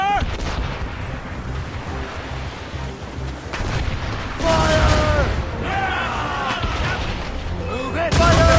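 Naval cannons firing in a video game sea battle, heavy booming shots and rumbling blasts in bursts, loud and close, with shouted game-character voices and battle noise between and over them.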